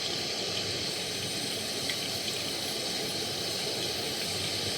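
Banana slices frying in hot oil for banana chips, giving a steady, even sizzling hiss that stays constant and close throughout with no voices.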